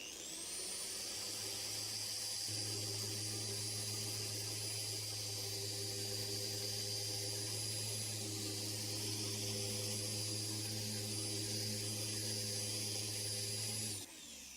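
A polishing machine with its backing plate runs steadily on a flat surface, giving a loud continuous whirring hum with a high whine on top, holding for about fourteen seconds before stopping.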